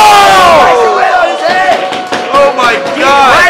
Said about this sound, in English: The crowd's getting hot.